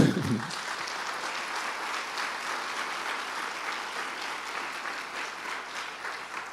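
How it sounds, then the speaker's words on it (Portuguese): Church congregation applauding, a sustained dense wash of clapping from many hands at moderate distance, steady throughout with no speech over it. "Podemos aplaudir Jesus?"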